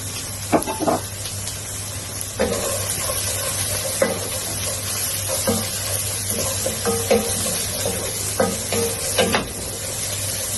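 Carrots stir-fried in oil for string hopper biryani, a continuous sizzle over a low hum, punctuated by repeated spoon scrapes and taps against the pan, close and alone.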